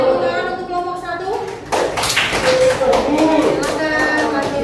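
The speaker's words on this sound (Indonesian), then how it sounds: "Beri tepuk tangan untuk kelompok 1." Classroom students clap for a group after it answers, a burst of close, scattered clapping starting midway, mixed with children's voices and chatter.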